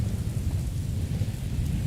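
Steady heavy rain and a deep rolling rumble of thunder fill the space in the game Morrowind, a dense continuous roar with no voices.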